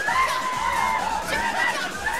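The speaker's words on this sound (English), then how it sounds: "The crowd trying to psych out the players" Crowd at a Street Fighter IV Arcade Edition tournament, the Capcom Cup 2013, shouting and chattering at the players, a dense, wavering roar of many voices with rising swells.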